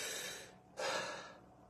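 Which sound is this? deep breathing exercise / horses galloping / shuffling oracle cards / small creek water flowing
deep breathing exercise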